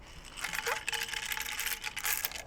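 Dry pasta tumbles into a hot pan inside a Roccbox pizza oven, a brief rattling clatter of hard pieces over a steady background hiss, with no talk.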